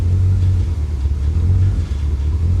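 A Corvette engine idles unevenly after a misfire repair, giving a close, low rumble that wavers and pulses slightly rather than holding perfectly steady.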